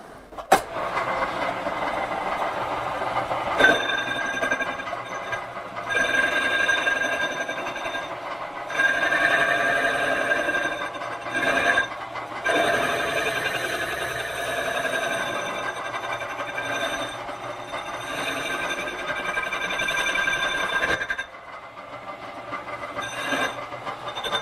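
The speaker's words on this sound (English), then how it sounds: "I have a shaped form tool here, which I can use to pare this weld down" A metal lathe turning while a shaped form tool pares down a copper weld on a stud, giving a steady, loud whirring drone with brief dips and restarts as the cut is eased on and off, close up with no talk.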